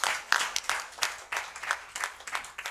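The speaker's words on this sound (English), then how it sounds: "a big round of applause for that." Audience applause at a founding members' nostalgia gathering, scattered hand claps in an uneven patter that rises and falls over a few seconds, moderately close with no talk over it.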